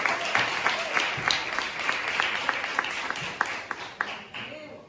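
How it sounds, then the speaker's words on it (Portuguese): A small church congregation applauds with scattered, rhythmic claps, moderately distant, mixed with faint room noise and fading toward the end. "E dê ao Senhor um forte aplauso."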